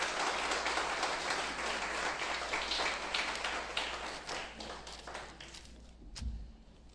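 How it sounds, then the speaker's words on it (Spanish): A congregation applauds during a Shabbat Torah portion service, sustained broadband clapping that fades toward the end, followed by a brief low thump. "un aplauso para el Señor."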